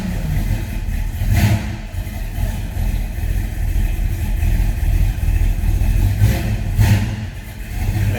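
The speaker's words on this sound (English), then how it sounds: "fire this up so you can hear this thing run" A 1965 Plymouth Valiant Signet with a Hemi engine runs with a steady mid-pitched rumble, revving up in two brief bursts before settling back, loud and close with no talking.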